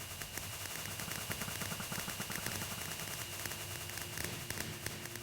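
Explosions in Minecraft going off in a rapid, dense barrage, crackling bursts piling over one another continuously at fairly loud level with no pauses or talk.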